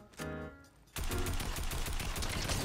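Gunfire in the video game Fortnite: after a short tonal sound, a loud, unbroken stream of rapid automatic shots runs to the end of the clip.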